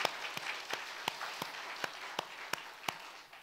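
A church congregation claps in unison, a quiet, steady beat of sharp claps at an even pace, about three per second, over a soft background hum.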